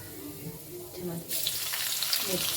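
Green chillies drop into hot ghee in a kadhai for pav bhaji and set off a sudden bright sizzle halfway through. A soft voice murmurs under quiet kitchen noise just before, and the frying then crackles on steadily.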